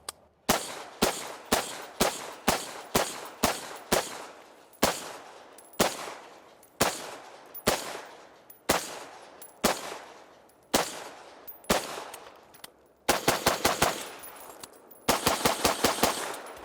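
Pistol fired in a shooting drill across several targets, with loud sharp shots in quick bursts of four and five separated by short pauses and a fast rapid string near the end, with no talking.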